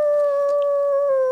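A woman imitates a wolf howl, holding a single steady, tonal wail that drifts slightly downward in pitch.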